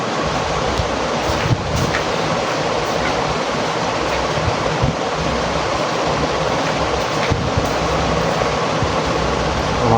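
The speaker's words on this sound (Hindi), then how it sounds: "और पानी भी बरस रहा है" Heavy rain falling in a dense, unbroken hiss that stays loud and even from start to finish, with no voices over it.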